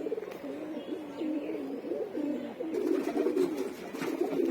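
Several pigeons, males and females kept in a home loft, coo steadily and nearby in overlapping low, wavering calls that continue without pause.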